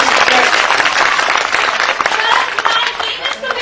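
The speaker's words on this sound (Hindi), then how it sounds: "बढ़िया, जोरदार ताली बजाओ।" A school audience applauds loudly and continuously, with dense clapping sustained throughout and some voices mixed in.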